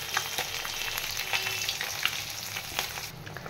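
Fish curry with potatoes simmering and sizzling in a pan, a steady crackling fry with scattered pops and occasional stirring clicks, close and continuous with no talk.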